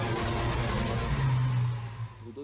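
Deep, powerful Lamborghini V12 sports car engine rumbling and revving up, then easing off, close and loud.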